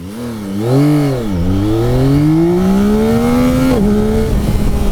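A Yamaha XSR900 GP motorcycle accelerates hard through first gear, its engine note rising steeply after a brief dip and climbing toward the rev limit, loud and close.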